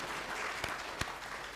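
An audience at a Hindu religious discourse on the Sundarkand claps steadily in dense, continuous applause, with a couple of louder individual claps standing out.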